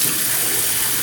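Water rushes through the parts of a Fluidmaster Universal 400A toilet fill valve being flushed clean, a close, loud, steady hiss of flow with no pauses.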